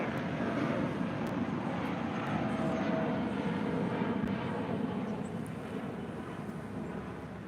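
A brand new Spirit Airlines Airbus A320neo lands at LAX, its engines giving a steady broad rumble and whoosh that slowly fades, with light wind noise on the microphone and no talk.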